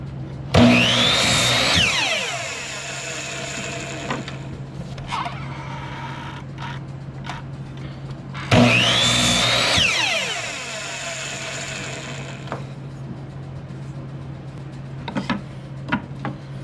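A power tool cuts a notch into old barn wood for a picture frame in two loud whining bursts with rising pitch, each lasting about a second and then trailing off, separated by quieter handling clicks and knocks.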